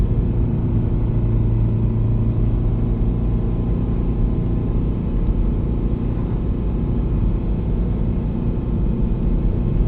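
A Subaru BRZ with a 6-speed manual climbs a steep, snowy mountain pass on Nokian Hakkapeliitta tires, its engine a steady, loud, close cabin drone with rumbling road noise throughout.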